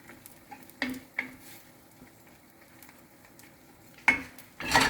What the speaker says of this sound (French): Il faut bien remuer pour pas qu'il y ait de grumeaux.